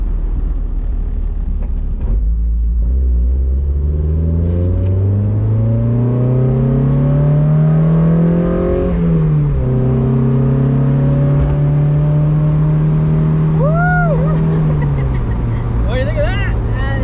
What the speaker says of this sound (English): You just installed the Skunk2 intake on a Miata. Now, let's take the car out for a rip and see how it performs.